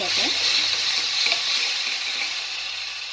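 Biulir dal, a split black gram batter, hits a hot pan and sizzles loudly and steadily up close, a dense hissing crackle that fades only slightly over the few seconds.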